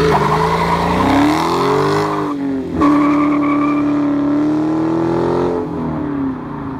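Naturally aspirated V8 from a Dodge Challenger revs loudly and close, its pitch sweeping up and down in several surges with a brief dip near the middle, no talking over it.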